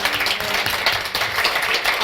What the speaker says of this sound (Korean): 저희가 드릴 건 박수밖에 없네요